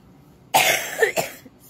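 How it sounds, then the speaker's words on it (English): A single person coughs, a sudden close, harsh burst followed by two smaller rough coughs within about a second, with no talking. "still got this cough"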